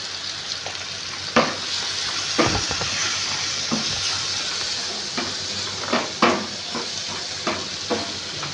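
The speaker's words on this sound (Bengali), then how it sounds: "এবার এটা আমি ভালো করে ভেজে নেব।" Ground spices such as turmeric and coriander frying in a pan, a continuous close sizzle broken by several sharp scrapes and knocks of a spatula stirring, with no voices.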